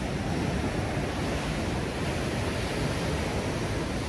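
Rough ocean surf at Monterey roars as a continuous, loud wash of breaking waves, blended with gusting wind buffeting the microphone.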